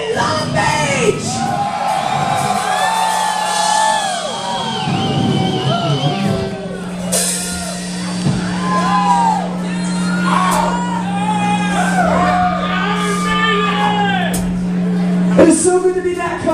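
A crowd at a rock concert in Long Beach cheers, whoops and screams loudly and continuously while a performer shouts to them over a sustained held tone.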